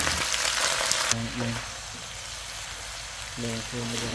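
Washed cabbage hits a hot pan with fried garlic, bursting into loud sizzling that settles into a steady frying hiss, with two short clatters of stirring.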